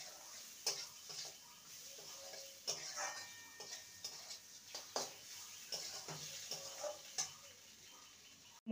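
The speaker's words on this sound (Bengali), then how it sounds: "মুগ ডালটাকে ভালো মতন মশলার সাথে কষিয়ে নেব।" Fried mung dal being stirred with spices in a pan, a quiet sizzle under repeated scraping and clinking of a spoon against the pan at an irregular pace, with no talking.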